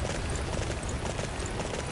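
Horse hooves clip-clopping in the video game Dynasty Warriors 9 on PS4, a quick steady gallop rhythm running throughout, fairly loud and close, with game background sound beneath.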